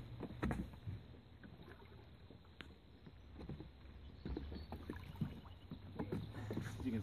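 A small plywood boat with an electric inboard motor moves on water, giving a faint, low steady hum under soft splashes and occasional light knocks against the hull.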